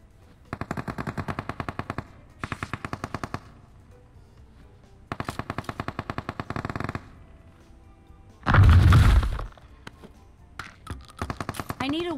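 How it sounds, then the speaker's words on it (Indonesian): Bursts of rapid automatic gunfire from the video game Free Fire, several separate strings of shots with one louder blast near the end, with a voice talking in between. "Ada yang nembakin dari depan"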